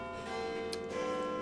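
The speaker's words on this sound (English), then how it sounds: "you hear the bell tower start to ring" A bell tower in a town center rings with a sustained, resonant tone that holds steady and loud throughout, layered with rich ringing overtones.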